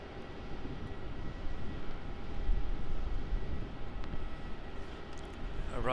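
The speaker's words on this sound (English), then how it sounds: "So we will wait for that Jetstar 787." Jetstar Boeing 787 airliner arriving at Melbourne Airport, a steady low engine roar heard from a distance that swells slightly, with faint talk over it.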